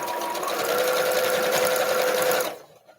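A featherweight sewing machine stitches quilt pieces together with a steady, continuous mechanical whir held close and loud for about two and a half seconds before stopping abruptly.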